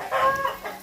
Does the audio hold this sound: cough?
no